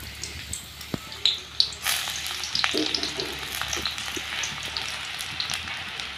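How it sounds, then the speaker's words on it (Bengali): Chopped onion hitting hot oil in a wok, giving a loud burst of sizzling that settles into a steady crackling fry with a few sharp clinks and scrapes near the start. "তেলে দিয়ে দেব পেঁয়াজ কুচি"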